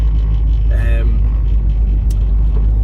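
A Nissan Pulsar GTi-R 4WD Attesa engine drones low and steadily inside the cabin while driving, a constant heavy rumble with a brief tonal whine partway through.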